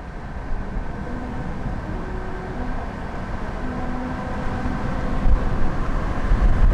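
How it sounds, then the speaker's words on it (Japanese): A car running at 70 km/h over a grooved melody road plays a TV drama theme song. Steady droning tones change pitch beneath a continuous road and tyre rumble, with no talking. "それのテーマソングが70キロで走ると音が流れるメロディーラインの上を走っています"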